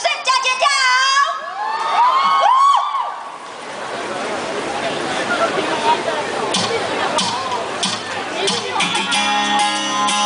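Concert crowd at an outdoor fan-signing event in a park, cheering, screaming and applauding loudly throughout, with high shrill shrieks early on and a dense steady roar of clapping and voices.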